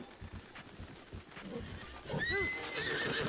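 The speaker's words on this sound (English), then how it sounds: "Flee for your life, horse." A video game horse neighs with a rising whinny, over clip-clopping hooves and faint background ambience.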